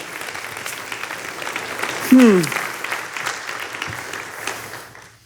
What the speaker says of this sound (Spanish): dale un fuerte aplauso para él